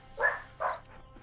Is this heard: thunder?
no